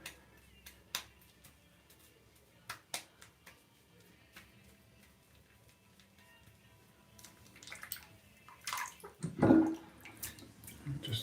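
A brush is rinsed in water. Scattered faint clicks and drips come first, then a burst of close sloshing and splashing near the end.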